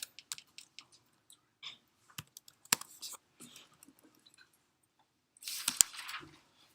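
Numbers are tapped out on a computer keyboard in sparse, quiet clicks with gaps between, ending in a brief denser flurry of keystrokes, close and otherwise silent.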